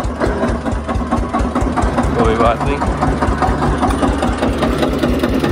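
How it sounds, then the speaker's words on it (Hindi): A tractor engine runs steadily at close range on a farm while dung manure is being spread, its continuous low rumble sitting under a man's speech. "ट्रैक्टर चला रहा है"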